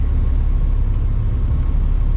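A truck passes on the interstate as a steady, loud low rumble and road whir, continuous throughout with no voices.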